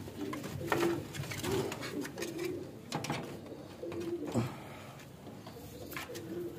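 Soft, low pigeon coos repeat every second or so, fairly near, with faint background hum.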